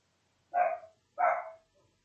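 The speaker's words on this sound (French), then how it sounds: "il y a mes chiens qui se sont mis à crier" Two short, sharp barks from dogs indoors at home, spaced about half a second apart, close and clear against a quiet background with no other sound.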